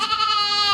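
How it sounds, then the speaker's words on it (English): A goat lets out one sustained, wavering bleat, loud and close, with nothing else heard. "And the goat cries out."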